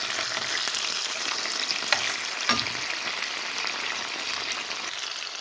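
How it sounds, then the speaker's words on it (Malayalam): Chicken frying in hot oil for a Japanese chicken curry, giving a loud, steady sizzle with a couple of brief clinks or stirs, close and continuous without speech. "എണ്ണ ചൂടായ അതിലോട്ട് ചിക്കൻ ഇട്ടിടുക. ഒന്ന് ഫ്രൈ ചെയ്തെടുക്കാനാണ്."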